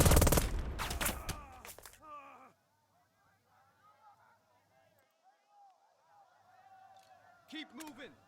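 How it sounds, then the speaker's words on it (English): Gunfire volleys in the WW2 video game Burden of Command, a loud crackling burst of shots up front, then quieter distant game sounds and a few later shots. "To open fire."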